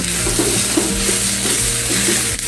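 Garlic, ginger and red pepper flakes fry in a pan, giving a bright, continuous close sizzle with a few soft stirring scrapes.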